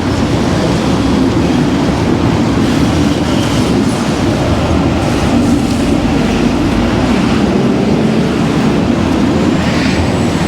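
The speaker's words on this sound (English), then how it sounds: "Here's a train going past now." A train rumbles past beneath a large parking structure in Sydney, a loud, continuous roar with faint rhythmic clatter, steady and close throughout with no talking.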